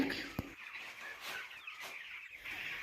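Broiler chicks in a poultry farm cluck and chirp softly in a busy flock, a scatter of overlapping bird calls with a sharp tap near the start.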